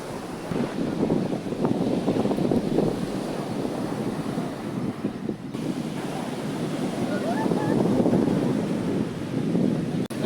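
Sea waves wash along the shore at Baybay Boulevard in the afternoon, a continuous surf roar mixed with gusting wind buffeting the microphone, steady and fairly loud throughout.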